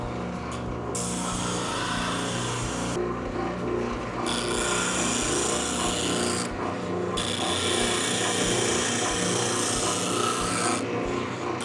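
A spindle sander abrades a wooden workpiece with a steady rasping hiss, the scratchy texture swelling and easing in cycles as the wood is pressed against the drum, close and continuous with no voices.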